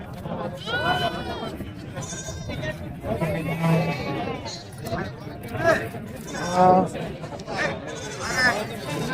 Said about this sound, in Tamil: பழனிசாமி இன்னைக்கு வந்து குணத்தூர் சந்தைக்கு எத்தனை குட்டிகள் கொண்டாந்தீங்க